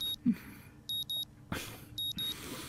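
In the Katawa Shoujo visual novel game, an alarm clock sounds two pairs of short, bright, high electronic beeps, each pair in quick succession, over a quiet background.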